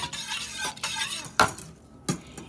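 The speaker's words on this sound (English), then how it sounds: "Now we just need to whisk together until it thickens up" A whisk scraping and clinking in a bowl of old-fashioned sugar pie filling with nutmeg, in irregular strokes and a few sharper metallic taps, fairly close and alone without talk.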